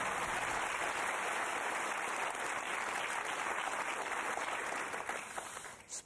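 Studio audience applauding on the UK quiz show Who Wants To Be A Millionaire as a contestant takes her winnings, a dense, steady wash of many hands clapping that stays loud and even before thinning at the very end.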